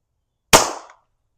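A single sharp crack from a Beeman BP.50 pistol firing a pepper round, close and loud, decaying quickly into silence.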